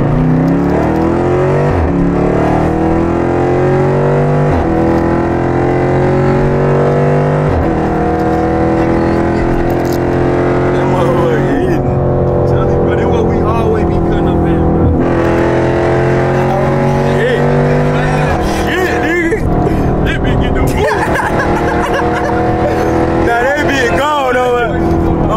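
A Jeep Grand Cherokee Trackhawk engine revs repeatedly with rising and falling pitch sweeps, loud and close, while people talk over it.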